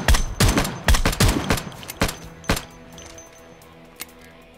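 Shots from a 4x-scoped firearm in Project Zomboid crack out in a quick cluster of about five sharp reports, then two more spaced blasts and a faint late pop, loud and close with no talking.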